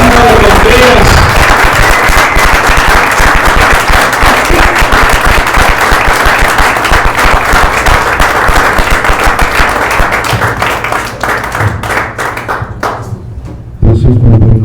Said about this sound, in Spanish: vamos a recibir con un fuerte aplauso a mi pastor Ramón Juárez